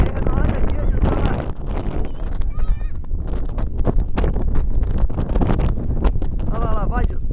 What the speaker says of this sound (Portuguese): Se liga, olha o vento, olha o vento.